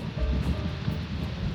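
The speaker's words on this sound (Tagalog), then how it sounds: "napagyo-bagyo na. Lakas po ng hangin." Strong stormy wind roars steadily near a riverside hut in the Philippines, a loud continuous rumbling wash buffeting the microphone with no voices.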